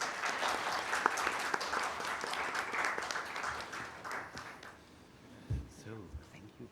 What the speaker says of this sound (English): I would like to ask you for a warm applause for all the distinct panelists here